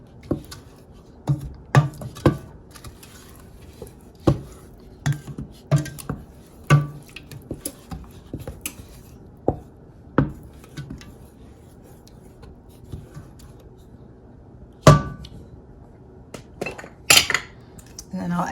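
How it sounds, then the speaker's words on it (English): A spoon scrapes and taps against a pot of simmering sauce during stirring, sporadic sharp metallic clinks over a quiet background, with a louder knock near the end. "But give this a nice good stir."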